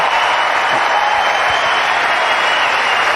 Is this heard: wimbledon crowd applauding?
yes